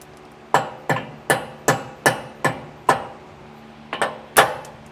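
Hammer blows drive old bolts out of a brake caliper bracket during a disc brake kit installation, about ten sharp metallic strikes in an uneven rhythm, loud and close with a ringing tail after each hit.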